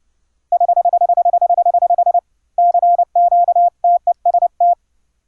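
Morse code CW sent with keyer paddles over an internet link: a clean, loud steady tone, first a rapid run of identical dits, then a pause and a mix of short and long elements.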